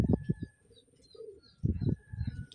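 A pigeon with an injured left wing coos softly in short bursts while being held close, with quiet handling rustles between the calls.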